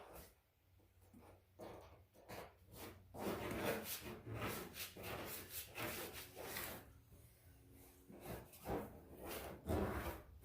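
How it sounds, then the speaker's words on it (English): A plastic paint scraper drags over car body metal, lifting paint softened by citrus stripping gel; repeated close rasping and rubbing strokes come in an uneven rhythm, fairly quiet, with no talk. "I'm using a plastic paint scraper because I don't want to damage the metal any more than I have"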